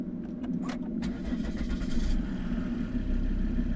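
A 2013 Volvo V60 R-Design 2.4 D5 AWD diesel engine cranks in a few quick rattling bursts, catches, and settles into a steady running rumble close by.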